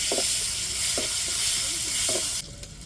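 Onion and garlic tempering in hot oil for rasam, a steady loud sizzle with a few spoon scrapes against the pan, the hiss dropping off sharply near the end.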